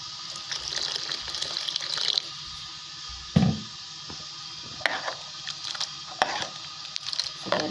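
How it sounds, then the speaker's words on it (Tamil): A steady stream of water runs and splashes into a pressure cooker pot in a kitchen, with a few knocks and clinks along the way. "தண்ணி நமக்கு தேவையான அளவுக்கு தண்ணி ஊற்றிக்கலாம்."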